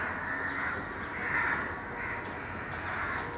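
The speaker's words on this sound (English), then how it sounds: "I'm sorry, the crows having fun." Crows cawing at dusk, a flock settling for the night; a dense, continuous chorus of overlapping caws fills the whole stretch at steady loudness with no voices.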